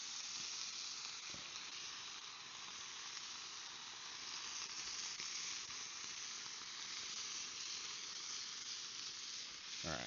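Canned green chili sizzles in a pan over a campfire, a steady, dense hiss holding throughout with faint crackles, close and without speech.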